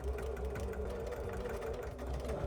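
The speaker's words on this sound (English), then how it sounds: "put my needle down on this line because I don't want to stitch over that corner, and stitch on this side" A sewing machine stitches a scrappy Hunter's Star quilt piece. It makes a close, steady, rapid mechanical chatter with a low motor hum, continuous and alone.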